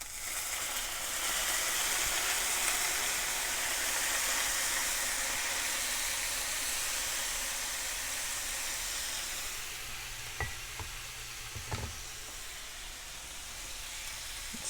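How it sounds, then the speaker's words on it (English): Lemon juice hitting a hot pan of frying crispy-skin salmon, making a loud, steady sizzle and hiss that gradually eases, with a few small pops and clicks near the end. "we'll add our lemon juice. And it's going to splatter"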